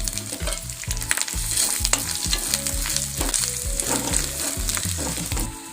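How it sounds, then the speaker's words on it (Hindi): Ginger, garlic, capsicum powder and turmeric fry in a pan on low heat for chhole, producing a loud, steady, close sizzle with occasional scraping of a stirring spoon and no speech. "30 सेकंड तक भून लिए हैं"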